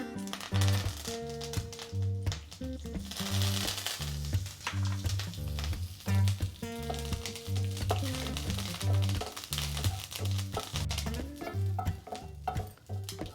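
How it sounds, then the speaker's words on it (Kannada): Curry leaves sizzling and crackling in hot oil in a pan, a loud, steady spitting hiss broken by stirring scrapes, continuous throughout. "ಈಗ ಸ್ವಲ್ಪ ಕರಿಬೇವು ಹಾಕೋಣ."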